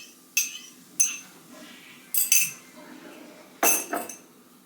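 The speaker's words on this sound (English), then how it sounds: "So just kind of mix up an egg." A farm-fresh egg is mixed in a bowl, with a few sharp utensil clinks against the dish arriving in irregular bursts over a quiet background.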